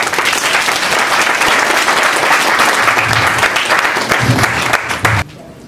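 Loud, sustained applause from a conference audience greeting a speaker coming on stage, steady and dense for about five seconds before cutting off abruptly.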